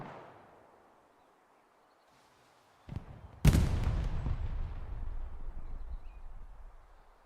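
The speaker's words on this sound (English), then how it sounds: "Whoever shot that rocket did not shoot it well." Rocket explosion in the Hell Let Loose video game, a single loud blast after a short sharp crack, followed by a long rumbling decay, set against quiet surroundings.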